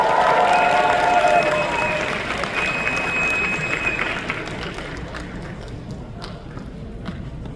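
Audience applause at the Anime North 2024 closing ceremony, a broad sustained clapping from a large crowd that starts loud and gradually thins and fades toward the end.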